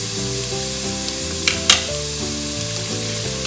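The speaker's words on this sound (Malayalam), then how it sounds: "അത് നല്ലപോലെ അതിൻ്റെ പച്ച പോണവരെ നമുക്ക് വഴറ്റാം." Onion, capsicum and tomato sauté in oil left from frying chicken for a Spanish-style chicken paella, a close, bright steady sizzle broken by a couple of sharp stirring clatters midway, with no talking.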